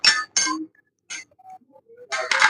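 A metal spanner clinks sharply several times against bicycle parts during a repair, sounding as bright, close taps in small clusters separated by near silence.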